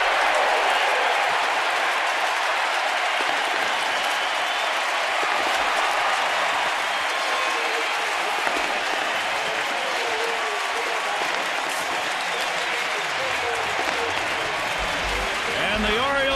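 A packed crowd at a Baltimore Orioles home opener against Detroit roars and applauds continuously at a baseball stadium, a dense sustained wash of cheering and clapping.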